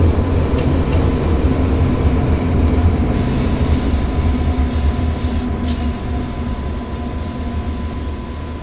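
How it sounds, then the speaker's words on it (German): BR 155 electric locomotive moving along the track in Train Sim World 2, a continuous rolling rumble with a steady electric hum and faint high squeals, loud and unchanging throughout. "fahren Sie vorwärts, bis die Lokomotive die Waggons berührt"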